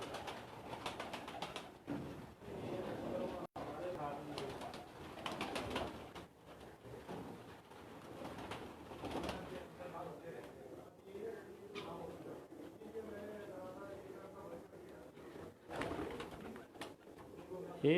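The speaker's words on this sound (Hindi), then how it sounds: "बहुत ही अपने कबूतरों से बहुत ज़्यादा प्यार करते हैं तारिक भाई।" Pigeons, mostly Sialkoti pigeons, coo and flutter nearby on a rooftop over a steady background, with people talking intermittently throughout.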